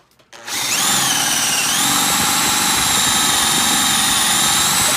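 Close and loud, a power drill spins up and bores steadily through wood with a self-feeding bit, holding a strained, even whine for several seconds without a pause.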